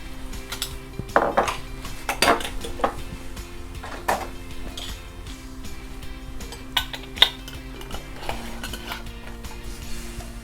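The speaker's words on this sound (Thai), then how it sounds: "เรา คนตัว เกลือกับ น้ำตาลทราย ให้มันละลายในน้ำแล้ว" A utensil knocks and clinks against a pot while salt and sugar are stirred into boiling water, with sparse, irregular taps over a low background hum.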